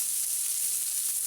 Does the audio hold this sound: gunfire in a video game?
no